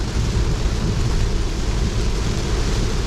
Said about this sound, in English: you might hear some thunder. It's a nice bit of thunderstorm we got going on now